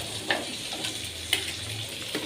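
Onions sizzling and frying in hot oil in a pan just used for frying fish, a steady broadband crackle with a few sharper pops and light stirring clatters, close and alone.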